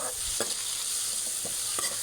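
Soaked tamarind frying in a pan while pickle is prepared, a steady low sizzle with several soft stirring scrapes spaced through it.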